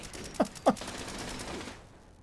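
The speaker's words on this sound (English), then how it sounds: "the turret shouldn't have hit me" Automated turret gunfire in the video game Fallout 76 gives two sharp, close shots in quick succession, then a fading tail.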